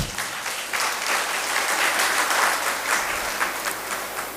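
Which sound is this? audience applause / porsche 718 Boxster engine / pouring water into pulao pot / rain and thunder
audience applause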